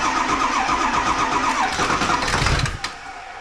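A Ford 7.3 Powerstroke diesel engine in a rat rod build cranks over with its block heater plugged in, a steady loud churning starter drone that surges briefly as it tries to catch near the end, then drops away.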